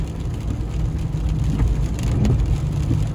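Steady rain drums on a car roof and windows on a rural road near Chiang Khan, Thailand, a dense close patter with a low engine-like rumble beneath, no voices.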